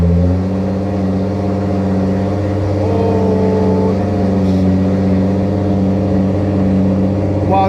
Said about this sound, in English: this car sounds a lot more angrier than it was before